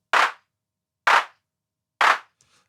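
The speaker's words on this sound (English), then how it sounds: "what I like to do is to go in the MIDI and to just draw in those notes ahead of the main clap" Three separate sharp, bright clap hits of a designed electronic clap sample, evenly spaced about a second apart, each with a short decaying tail and alone with no talk.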